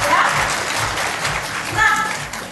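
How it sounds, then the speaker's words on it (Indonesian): Audience applause at an Oriflame business gathering in Makassar, a steady wash of clapping under a speaker's voice, fairly loud throughout the short stretch. "Kasih tepuk tangan buat Anda yang luar biasa ya"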